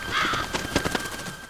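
A crow caws repeatedly in a film scene, a series of harsh, rasping calls in fairly quick rhythm over a steady tonal hum and low background noise, with no one speaking.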